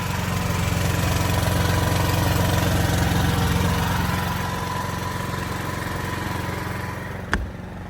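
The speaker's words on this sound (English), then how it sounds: "The actual exhaust comes out here, and that's quite hot. You can hear it's much louder" A steady, loud backup generator engine drone with low rumbling exhaust through metal ducting, running continuously at close range, with a brief clunk near the end.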